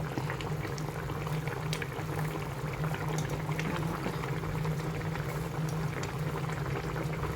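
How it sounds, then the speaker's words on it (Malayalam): A pot of mackerel fish curry with kudampuli and tomato bubbles steadily on the stove, a continuous low simmering burble with soft popping, close and moderately quiet, with no talk. "കുറച്ച് സമയം കൂടെ ഒന്ന് തിളക്കട്ടെ"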